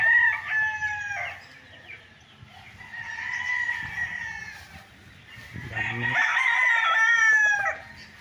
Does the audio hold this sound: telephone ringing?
no